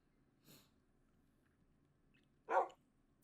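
A dog in the Minecraft video game, beta-style world: a soft short bark or huff, then a louder single bark about two seconds later, over a faint low background.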